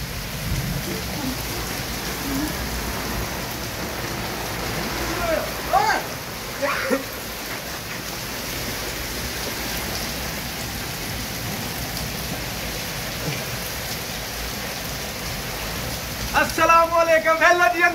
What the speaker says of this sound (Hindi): बहुत ही ज़्यादा बारिश हो रही है जी